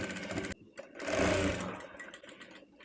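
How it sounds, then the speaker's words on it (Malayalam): Sewing machine stitching elastic onto a baby outfit, a steady mechanical whir that starts, pauses briefly, then runs in a louder close burst before slowing. "ഇതുപോലെ സ്റ്റിച്ച് ചെയ്തെടുത്തതിന് ശേഷം നമുക്ക് എലാസ്റ്റിക് ഇതുപോലെ ഒന്ന് സ്റ്റിച്ച് ചെയ്തെടുക്കാം"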